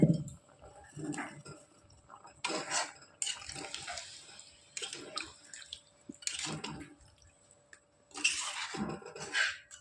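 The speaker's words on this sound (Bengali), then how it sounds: "এবার দিয়ে দেবো পরিমাণ মতো জল।" Water poured into a pot of browned chicken curry, a series of splashing, gurgling pours in bursts with short pauses between, close and moderately loud, no talking.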